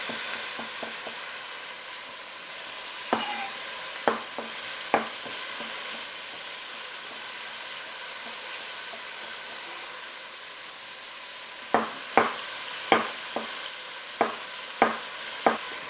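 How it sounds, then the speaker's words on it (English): Pork frying in a pan while Pork in Pasilla is prepared: a steady, soft sizzle and hiss throughout, with short sharp clicks and taps in bursts near the start and end. "I am going to just slice them all up while the pork"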